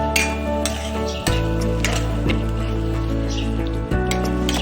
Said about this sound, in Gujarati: ભીંડી ફ્રાય કરીને રાખીએ તે આપણે અંદર એડ કરી લઈએ. બરાબર મિક્સ કરી લઈએ.